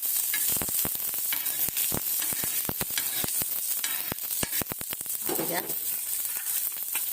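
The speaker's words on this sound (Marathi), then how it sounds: "मिरची अशीच व्यवस्थित भाजून घ्यायची आपल्याला आणि कांदा देखील असा भाजून घ्यायला टाकला" Green chillies and onion dry-roasting in a pan, a steady close sizzle punctuated by frequent sharp scrapes and taps of a spatula stirring, with faint talk at times.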